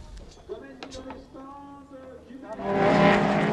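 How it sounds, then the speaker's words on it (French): An LMP3 prototype race car, number 32, at the pit entrance of the Nogaro circuit, its engine note rising to a loud, rushing roar at the end after a quieter stretch with a voice in the background. "Vincent Beltoise lui loupe l'entrée des stands avec le LMP3 numéro 32 à l'entrée des stands"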